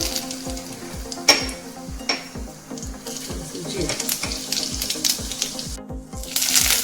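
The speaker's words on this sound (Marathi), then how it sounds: "तेल टाकलं की आपण तवालपत्र घालायचं" A bay leaf dropped into about a spoonful and a half of hot oil in a pan on the stove, sizzling steadily with regular clinking taps of a utensil beneath it. A brief sharp crackle comes up near the end.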